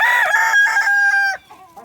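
Partridge Rock hen in a backyard chicken flock, crowing-style calls in a series of loud, close, drawn-out tonal squawks that fade into softer clucks at the end.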